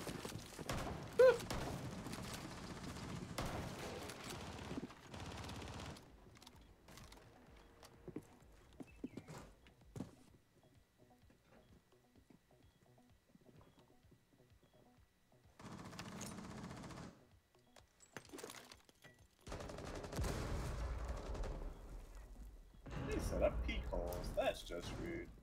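Shotgun blasts in a video game, scattered loud bursts of firing separated by quieter stretches, with people talking over parts of it.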